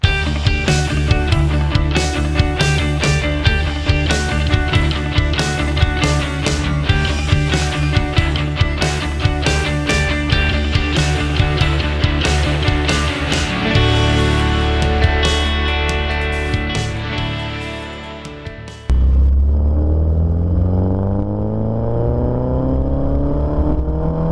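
A 1980s Porsche 924 engine runs and revs loud and close, a sustained buzzing drone whose pitch rises and falls, then drops abruptly into a lower, sliding tone near the end. No voices.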